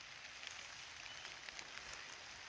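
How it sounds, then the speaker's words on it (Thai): Rain falls steadily over a cold, wet strawberry farm planted with seedlings, a faint, even patter on surfaces with no voices. "นี่คือบรรยากาศนะครับบรรยากาศฝนตกนะครับเย็นๆเลย"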